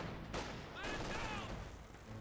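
Light artillery barrage in Company of Heroes 2 on a battlefield with a ZiS gun, broadband blasts and crackling fire at the start and around one second, over steady battle noise with faint whistling overhead.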